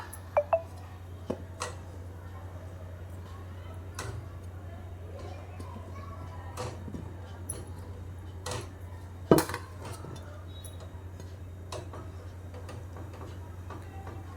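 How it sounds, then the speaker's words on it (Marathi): Indian gooseberries are placed in a metal strainer set over a pot on a gas stove, giving sparse, faint clinks and taps over a low steady hum. "आता आपण याच्यावरती आवळे ठेवून वाफवून घेऊया"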